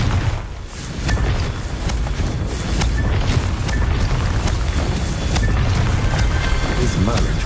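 A Confringo fire spell blasting in Hogwarts Legacy, a dense sustained roar of booming explosive rumble with crackling bursts and sharp impacts, loud and continuous throughout with a brief dip near the start.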